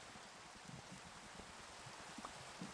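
Rain falls steadily in a Minecraft game, a constant soft hiss of drops with faint scattered patters and low rumbles beneath.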